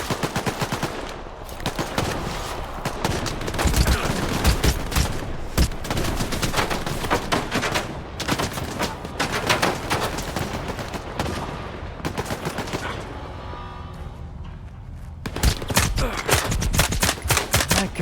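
Submachine gun fire in S.T.A.L.K.E.R. 2 comes in long, loud, rapid bursts, broken by brief pauses and a quieter stretch before the shooting resumes.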